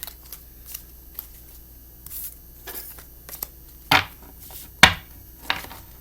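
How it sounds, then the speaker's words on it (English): Tarot cards are shuffled by hand in a series of short, crisp riffles and taps, with a few sharper bursts near the end and quiet gaps between them. "So I want to do a shuffle ruffle here and just take a look."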